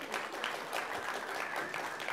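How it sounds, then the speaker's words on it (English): Audience applause at a public debate on homeopathy: steady clapping from a seated crowd, fairly soft and somewhat distant, holding evenly throughout without talk. "Yeah, you can clap."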